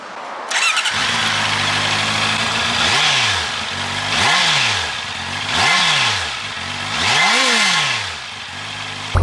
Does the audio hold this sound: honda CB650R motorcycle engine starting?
yes